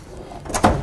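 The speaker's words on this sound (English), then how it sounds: "move my drawers around." Tool drawers in a garage workshop being slid, a brief scraping rattle rising to a short metallic bang near the end, close and fairly loud.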